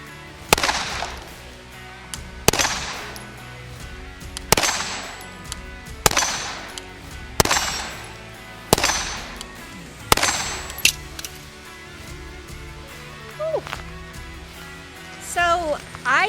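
A Canik TP9 SFX pistol fires at 25-30 yards, about nine sharp, loud shots at a steady rhythm of roughly one every 1.5 seconds, with a brief scrape at the end.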